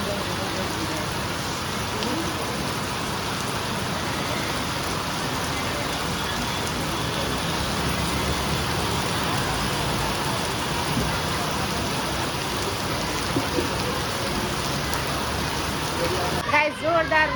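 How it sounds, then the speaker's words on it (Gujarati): Heavy monsoon rain pours down in Surat, a dense, steady hiss of water drumming on surfaces and flooded ground, loud and unbroken from start to finish. "જો ભાઈ, આ છે સુરતનો વરસાદ આજનો."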